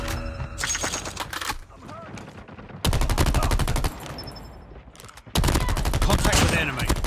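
Gunfire in multiplayer Call of Duty Mobile: loud automatic weapon bursts in dense rapid volleys, broken by short quieter gaps, with brief game announcer voice under the shooting.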